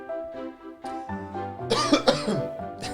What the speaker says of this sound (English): your first glass, you always cough